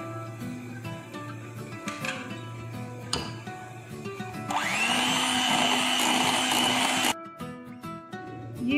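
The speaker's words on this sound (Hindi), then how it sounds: "और इसको बीट कर लूँगी।" Marble cake batter with vanilla essence is whipped by an electric beater. The motor whirs loudly for a few seconds, broken up by softer scraping and clatter before and after, with no voices.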